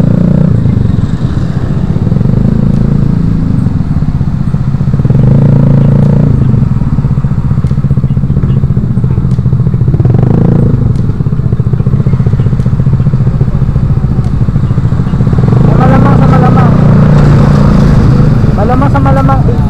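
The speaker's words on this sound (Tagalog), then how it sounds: "napapaligilan na tayo ng malalakas na tambutso" Motorcycles with loud exhausts pass close by, their engine roar rumbling and clattering throughout, swelling near the end as people chat over the noise.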